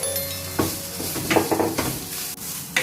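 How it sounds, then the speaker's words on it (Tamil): Spoon stirring a fish mixture into drumstick leaves in a pan for a Vanjaram fish fry, with scraping strokes and a soft sizzle underneath, close and steady with no talk. "இப்போ மீனையும் சேர்த்து கலந்து விட்டாச்சு"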